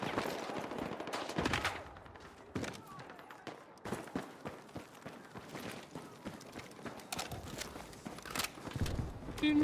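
Sniper rifle fire in a video game, with repeated sharp shots and bursts scattered through a busy mix of game noise. A voice is heard intermittently.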